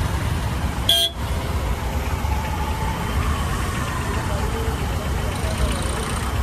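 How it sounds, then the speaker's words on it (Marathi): Busy road traffic in a jam, with steady engine rumble from surrounding cars and a short, sharp horn toot near the start, then continuous idling noise. "निस्त ट्रॅफिक"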